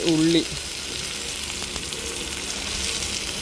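Mustard seeds splutter in hot oil during roadside cooking, a steady, close, crackling sizzle that runs throughout after a brief tonal sound at the start.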